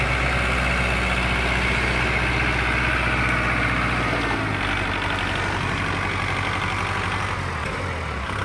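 A Kubota 5018 tractor engine runs at a steady, loud diesel idle close by, with a constant low rumble that shifts slightly in pitch partway through.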